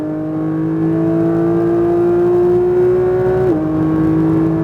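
A Porsche 992 911 GT3 on a racing circuit pulls hard after an upshift: a loud, close, steady engine drone that climbs slowly in pitch, with a brief dip at a gear change near the end. No talking.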